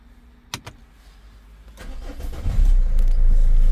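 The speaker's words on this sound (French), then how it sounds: "le véhicule démarre aussitôt" A Renault Scenic 2 with the 1.5 dCi diesel is started with the start-stop button. A couple of sharp clicks come first, then the engine cranks and catches, rising into a loud, steady, close idle rumble.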